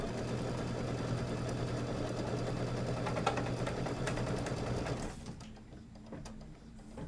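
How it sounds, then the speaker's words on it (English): A multi-needle embroidery machine stitches out a trimming guide on fabric for a table topper, a steady mechanical whir with fine rapid stitching clatter that runs for about five seconds before the machine stops. "it's just going to stitch out a little trimming guide for you"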